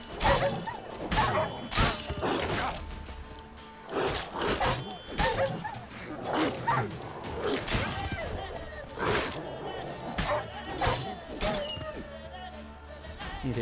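A fight with wild dogs in a video game, with repeated barks, yips and sharp impact whacks arriving in quick bursts over game music and effects.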